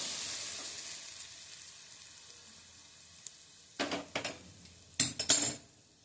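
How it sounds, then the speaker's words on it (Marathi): Hot chilli tempering poured over dal gives bursts of sizzling with clinks of a utensil on the pot in the second half, after a quiet stretch of faint hiss. "आता ही फोडणी आपण ह्या डाळीवर घालणार आहोत."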